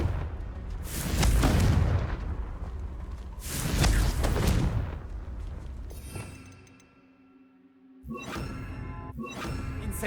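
Loud booming blasts from a Confringo explosion spell cast in a Harry Potter video game, two big detonations followed by crackling debris and ringing magical tones.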